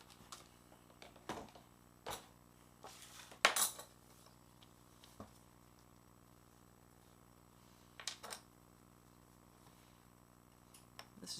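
Scissors or a blade cutting out hard rubber pieces, heard as scattered faint snips and clicks with a louder clack midway and quiet pauses between cuts.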